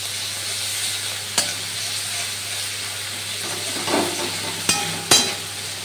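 Onion paste sizzles and hisses steadily in hot oil with garlic, with a few sharp scrapes and knocks of stirring near the end, close and fairly loud.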